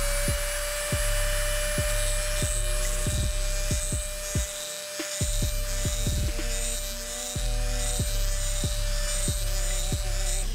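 An engine piston is ground to remove material evenly for balancing, and a steady high whine runs under repeated rhythmic grinding strokes, with a brief pause near the middle.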